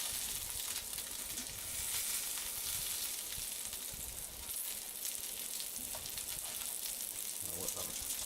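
Yak meatballs fry in a pan with a continuous sizzling hiss, moderately faint, with occasional soft shuffles as they are nudged about; no speech.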